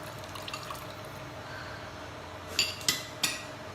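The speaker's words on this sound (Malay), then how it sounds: "Jadi kita akan masukkan air asam." Tamarind water poured into a pot for asam pedas curry: a soft liquid trickle and splash, followed by three sharp clinks of a utensil against the pot near the end.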